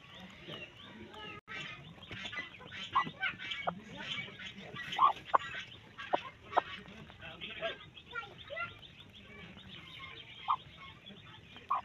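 A broody hen pecks quickly at grain near her coop on a small backyard chicken farm, with soft taps and faint clucks close by while a person talks over the scene.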